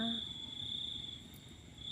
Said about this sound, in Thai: ฟังเสียงจิ้งหรีดนะคะ